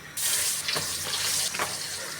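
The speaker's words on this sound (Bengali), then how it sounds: "তেলটা গরম হয়ে গেছে এখন আমি মাছগুলো দিয়ে দেবো" Pabda fish are dropped into hot oil in a pan, setting off a sudden loud, close sizzle. The hissing crackle holds steady with small pops for about two seconds.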